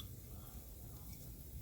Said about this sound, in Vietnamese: Rồi bây giờ mình bắt đầu mình qua mình sẽ xào cái cà này nha.